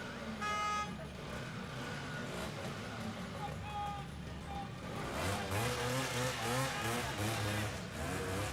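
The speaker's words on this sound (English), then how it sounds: "This car honks at me on that side" Street traffic with a car horn honking, a short tooting burst near the start over engine rumble, then more horn-like tones and passing vehicles, with people talking throughout.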